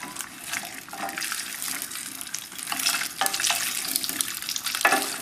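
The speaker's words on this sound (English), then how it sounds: "Come on, sizzle" Steady crackling sizzle of stuffed baby peppers frying in a hot pan, close up, with occasional sharper pops and spits throughout.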